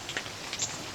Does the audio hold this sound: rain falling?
yes